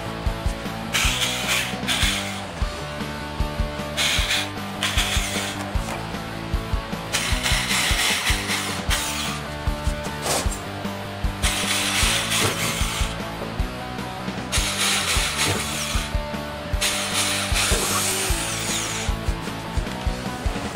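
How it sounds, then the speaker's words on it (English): Repeated grinding, ratcheting whir of a hand drill boring holes into a metal barrel, coming in bursts with short pauses between, close and fairly loud. "we will use this hand drill to make a hole"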